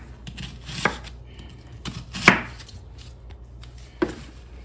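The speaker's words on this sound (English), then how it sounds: "So I'm gonna cut the white onion now." A knife cutting a white onion on a board, a few quiet separate chops spaced about a second or more apart over a soft low background.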